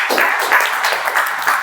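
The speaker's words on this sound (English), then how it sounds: "So let's give a good round of applause for starting well on time." Small Toastmasters meeting audience gives a brief burst of close, crisp hand clapping, a quick flurry of overlapping claps lasting under two seconds.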